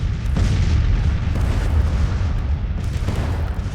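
Civil War cannons fire counter-battery shots in Grand Tactician: The Civil War, a dense, continuous rumble of booming artillery with a few louder thumps standing out.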